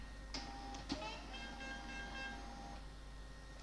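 A Wincode thermal label printer runs off barcode labels. It gives a faint, steady mechanical whir with light ticking, and one brief click near the start.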